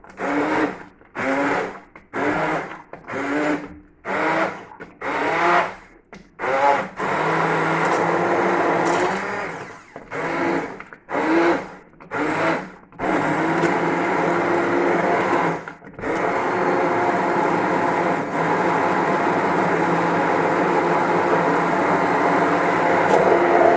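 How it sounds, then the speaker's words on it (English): A blender purees broccoli soup in a kitchen, first in short repeated pulses with brief pauses and then in a long, steady, loud whir. "turn the blender on now."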